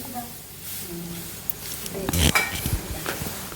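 A spatula stirs crushed tender jackfruit thoran in a pan, with soft scraping and light sizzling and a brief cluster of louder scrapes midway, while a person talks.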